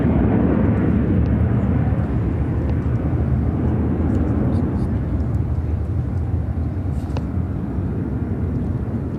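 Airbus A321 taking off from Chicago O'Hare bound for Newark, a loud, continuous broadband jet roar that stays strong and only slightly eases over the clip.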